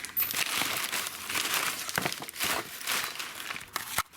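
Paper being crumpled and crinkled while being put away after unboxing shocks for a Crosby Racing Garage S10 RC car, a continuous close crackling rustle lasting several seconds with no talk.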